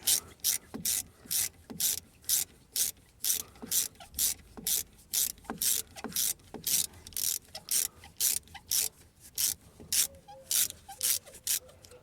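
A ratchet wrench loosens the front brake caliper bolts on a Peugeot 207/307 or Citroen C4. Loud, close ratcheting comes in a regular rhythm of about two strokes per second, with no voices.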